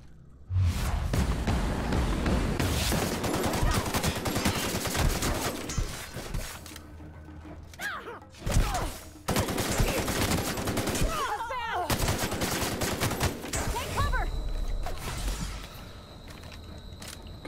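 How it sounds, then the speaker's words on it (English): Assault rifle gunfire in The Outer Worlds, loud automatic bursts separated by short gaps, with booming impacts and brief mechanical clatter between volleys. "Let's get out my assault rifle."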